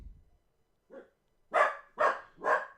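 A dog barks indoors, three loud, close barks in quick succession after a softer yip, with no talking over them.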